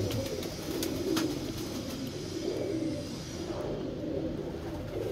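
Pigeons coo in rainy weather, a continuous soft, low cooing chorus close by, murmuring steadily with no voices over it.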